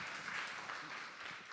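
Applause from a church audience at a concert, soft and distant steady clapping, with faint voices underneath.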